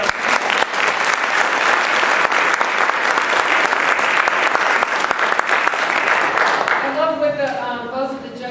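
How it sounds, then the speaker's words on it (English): An audience at a safety guide panel gives a round of applause for the panel judges: dense, steady clapping for about seven seconds, which then thins out as a voice starts speaking. "how about a round of applause for"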